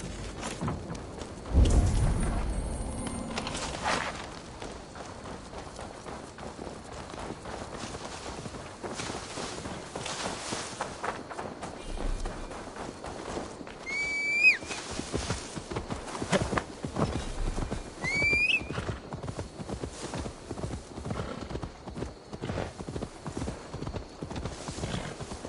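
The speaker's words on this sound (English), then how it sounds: "Now to deliver Magni his horse." A horse's hooves clip-clop steadily in Assassin's Creed Valhalla, a continuous rhythmic clatter over a background bed with a couple of short whinnies partway through.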